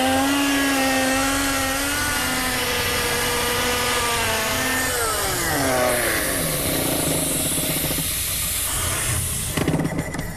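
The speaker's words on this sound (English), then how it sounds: "So once we've got the air on, we're more or less ready to drill." A compressed-air rock drill bores a two-foot shot hole on a wartime farm, giving a loud, near hiss with a falling whine at first, then a steady, rough pneumatic roar.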